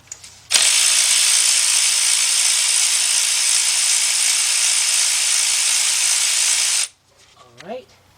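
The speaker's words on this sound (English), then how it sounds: "So we're going to take that bolt out." A ratchet spins out a 10mm timing chain tensioner bolt on a Chevy Cobalt engine, a loud continuous whirring click lasting about six seconds, followed by faint clinks of handling the part.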